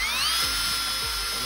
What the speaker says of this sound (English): So I'm going to drill somewhat deep into these trees.